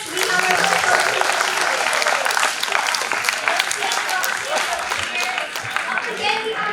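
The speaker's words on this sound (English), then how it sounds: "Oh, huge round of applause." An audience at an engineering college talk on environmental and climate change literacy claps for the first volunteer, loud continuous applause filling the room, with some voices mixed in.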